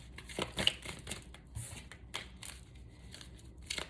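A deck of cards is shuffled in a quiet room, with several soft riffling bursts and papery flutters separated by brief pauses.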